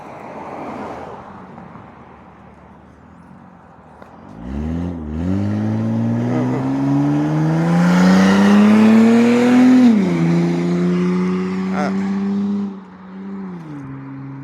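A pickup truck with a loud, throaty exhaust approaches and roars past nearby, its engine rising in pitch before dropping away as it passes.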